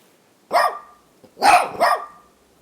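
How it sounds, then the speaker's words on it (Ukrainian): A mine-detection sapper dog working with Ukraine's emergency service barks three times, one sharp bark and then a quick pair, loud and close in an otherwise quiet setting. "Собаки-сапери допомагають ДСНС у розмінуванні"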